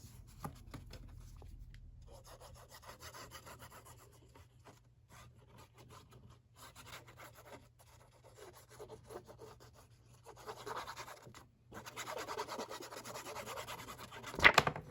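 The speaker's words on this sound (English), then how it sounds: "I'm gonna glue down this bottom flap" Soft, faint rubbing and scraping of a hand pressing down a glued paper flap in a mini wedding album at a desk, in irregular strokes that grow busier and louder toward the end, close and with no talk.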